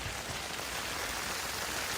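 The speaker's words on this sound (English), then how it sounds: "it's just started hailing like crazy" Hail falling on a tent in the Scottish wilderness, a dense continuous patter of many small hits on the fabric, steady and close with no voices.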